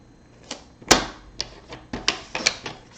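Paper trimmer cutting a 3/4-inch strip of cardstock: a series of crisp clicks and short slicing snaps, one louder sharp cut near the start followed by several lighter ticks, close and alone without talk.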